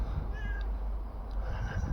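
A cat meowing softly, with a short thin meow early on and a faint one near the end, over a low background rumble, with no talking.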